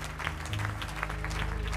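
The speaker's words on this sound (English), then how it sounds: "If you just give the Lord a hand clap." Church congregation clapping their hands in praise during a sermon, steady overlapping claps over a low murmur and faint musical hum, continuous for the short span.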